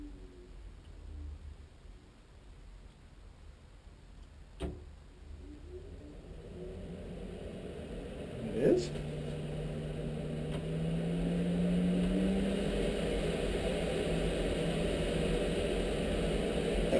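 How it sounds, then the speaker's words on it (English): A ventilation fan in a teardrop trailer runs with a steady low whir that grows slightly louder partway through, with a couple of sharp clicks and a brief rising hum, heard close with no talking. "So there's the fan with the trim in, fan's running, everything."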